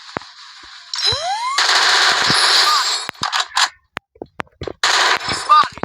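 Machine gun fire in the Free Fire video game: loud, sustained automatic bursts with a rising whine, then clipped shots and short volleys, while a player talks over the gameplay.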